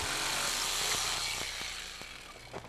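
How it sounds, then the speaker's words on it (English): A jigsaw cutting a hole through house siding, a loud continuous buzzing rasp that gradually eases, with the blade's strokes and small knocks growing more distinct near the end. "If you have to cut around a hole for an outlet or a spigot, you can drill a pilot hole and then use a jigsaw to finish the cut."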